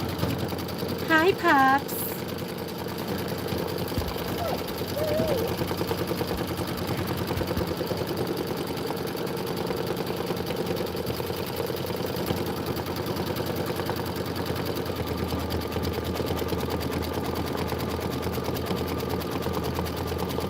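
Embroidery machine stitching a Kimberbell Enchanted Winter design, a steady rapid mechanical hum running throughout at moderate level, with a brief spoken greeting near the start.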